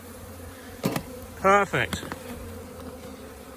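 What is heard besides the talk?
honeybees buzzing at an open hive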